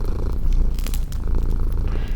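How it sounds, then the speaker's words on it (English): A cat purring close and steady, a continuous low rumbling purr with soft breathy rises, heard alone. "settled down for a good meal, purring all the while"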